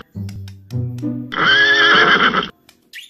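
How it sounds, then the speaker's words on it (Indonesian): A horse in the video game Jurassic World Evolution 2 lets out a loud, close whinny, rising in stepped snorts before a long shrill quavering neigh that stops abruptly. "Ini namanya kuda."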